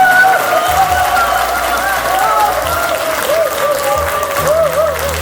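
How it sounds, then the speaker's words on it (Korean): A crowd applauds steadily at a speech welcoming a new chairman of a regional party office in Daegu, with dense clapping alongside a loud, sustained electronic tone and some crowd noise. "큰 박수로 모시겠습니다"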